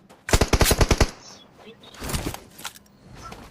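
Automatic gunfire from a battle-royale shooter on the Miramar map in PUBG Mobile: a rapid burst of about eight loud, close shots, followed by quieter fainter sounds and talk.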